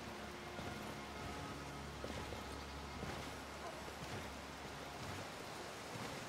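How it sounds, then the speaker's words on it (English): Steady rain downpour in modded Skyrim, a dense even hiss of falling water that fills the whole scene at low level without pause, soft and constant throughout. "Oh, look, and we've been treated with some rain."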